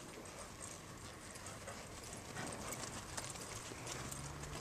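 Hooves clip-clopping in a steady trotting rhythm, fairly quiet against a constant outdoor background hiss.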